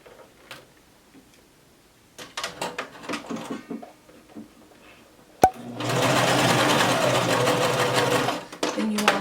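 Scattered handling clicks and taps give way to a sudden burst of close, loud sewing machine running as it zigzag stitches elastic onto a maxi skirt, a steady whir lasting a few seconds before stopping.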